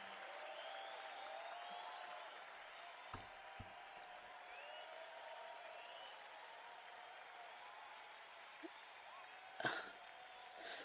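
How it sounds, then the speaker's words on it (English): Applause from the dugout at a West Indies versus Sri Lanka Test cricket match, greeting a batsman's half century, comes as a faint, steady spatter of clapping beneath crowd murmur, with one brief louder burst near the end. "Applause from the dugout."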